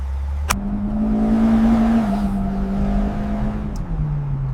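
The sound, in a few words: car engine running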